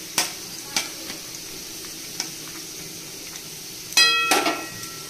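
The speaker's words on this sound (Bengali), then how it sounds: "এখানে তেলের মধ্যে আমি দিয়ে দিচ্ছি দারচিনি আর" Cinnamon and cardamom frying in oil in a pan give a quiet sizzle with scattered sharp clicks and pops, then a louder clatter of utensil against pan near the end.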